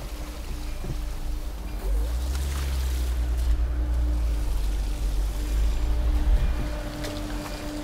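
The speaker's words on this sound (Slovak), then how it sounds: "ale to sú tie diery, kde vyteká voda" Water draining out of holes in a Lada Niva 4x4, a steady rushing, sloshing wash over a low engine rumble, loud and continuous, with no voices.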